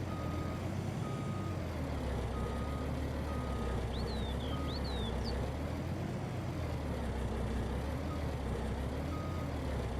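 A truck in Farming Simulator 19 idles and rolls along with a low steady engine drone, while intermittent reversing beeps and a few short air-brake squeals sound over it.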